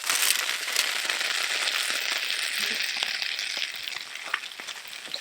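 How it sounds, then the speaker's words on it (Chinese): Bacon sizzles in a pan at a rainy seaside campsite, a steady, close frying hiss with scattered crackles and pops, gradually easing toward the end. "煎培根，然后再煎鸡蛋，还有西红柿"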